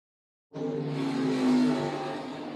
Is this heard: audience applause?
no